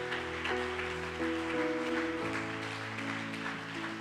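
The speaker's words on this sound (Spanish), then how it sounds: "¿cuánto le puede dar un fuerte aplauso al Rey de Reyes y al Señor de Señores?" Faint, steady applause from a church congregation fills the space, with sustained musical tones running underneath.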